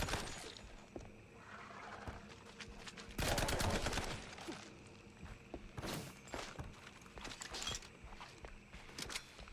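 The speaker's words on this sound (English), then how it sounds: "Sorry, I gotta shoot some gators quick." Rapid bursts of gunfire shooting at alligators in an action video game, sharp volleys and scattered single shots across a busy, layered game mix with one loud sustained stretch.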